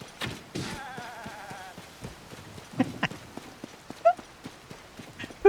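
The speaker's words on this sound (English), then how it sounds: "Go get this goat over here." A goat in the video game Zelda: Tears of the Kingdom gives a wavering bleat near the start, followed by steady clip-clop footsteps and scattered game effects.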